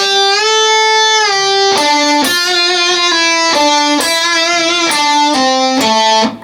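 Electric guitar plays a repeated lead melody from a song, with sustained bent notes giving way to quick, sharply picked phrases, loud and close with no voice over it.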